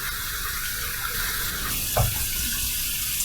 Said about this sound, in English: Warm water rinse, cold water rinse